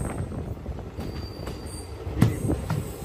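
Intercity SuperFast Express 22819 rolling into Ichchapuram station: a low steady rail rumble with faint wheel squeal and a few sharp clanks near the end, heard from inside the train.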